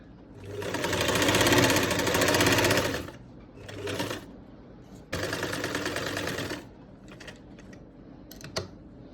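A sewing machine stitches the back neck of a shirt with a fast mechanical whir in bursts, running a few seconds, pausing, then starting again, close and clear, with light clicks between runs.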